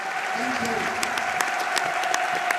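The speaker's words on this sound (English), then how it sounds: "all fans from all around the ground applauding the fact that it is Jimmy's day today" Football fans all around the ground at a Millwall v Charlton match applaud steadily at a distance, a sustained wash of clapping with a commentator talking over it.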